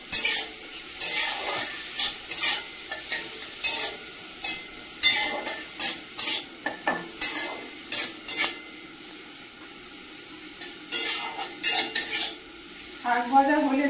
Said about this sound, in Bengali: চিংড়ি মাছগুলো লবণ আর হলুদ দিয়ে ভেজে নেব।